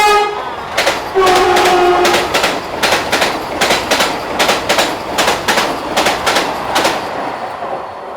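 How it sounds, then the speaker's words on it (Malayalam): A Vande Bharat Express rolls loudly into the platform close by, wheels clacking rhythmically over rail joints, with a brief horn tone near the start. "വന്ദേ ഭാരതാ വരുന്നത്."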